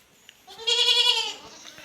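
A dairy goat bleats once in a barn on a rainy day, a clear, close, wavering call lasting under a second, with quiet background sounds around it.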